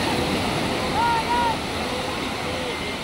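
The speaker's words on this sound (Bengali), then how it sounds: "আর কলকল মানে জলের আওয়াজটা তো বুঝতেই পারছো কোন সমুদ্রে রয়েছি।" Sea waves roll in at the Ganga Sagar ghat where people are bathing, a constant close roar of surf that swells briefly, with faint voices in the background.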